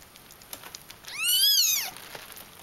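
Persian kittens let out one clear, high, arching meow lasting under a second, close and distinct over a quiet indoor background with faint small taps and rustles.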